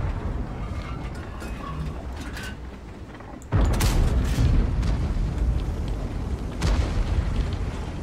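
A tank cannon fires in World of Tanks with a sudden heavy boom that cuts sharply over a low mechanical engine rumble, followed a few seconds later by another lighter impact.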